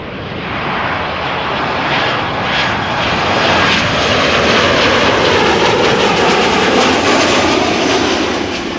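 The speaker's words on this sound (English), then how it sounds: "It is a 737-900 arriving from Manchester, where it departed 48 minutes ago." A KLM Boeing 737-900, 21 years old, landing at Amsterdam Schiphol, its jet engines making a loud, steady broadband roar that builds slightly and holds throughout, with no voices.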